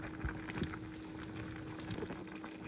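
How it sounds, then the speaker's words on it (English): Corn boiling in a pot on a home stove for a Sunday soul food dinner, a low, steady bubbling and rumbling churn with a few brief knocks and a faint background hum. "I have the corn back there boiling and the green beans are"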